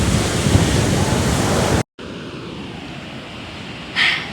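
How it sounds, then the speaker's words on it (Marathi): Steady roar of surf washing onto a beach in Goa, broadband and continuous, with a brief dropout midway and wind rumbling on the microphone. "समुद्राच्या साईडवर वॉक करण्यासाठी मस्त असा समुद्र आहे"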